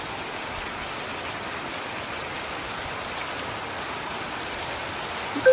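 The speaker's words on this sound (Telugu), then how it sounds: "సూపర్ వర్షం, మంచి వర్షం పడుతుంది." Heavy rain pours steadily in Khammam, a dense, even hiss of falling water that holds at one level throughout, close and loud, with no voices.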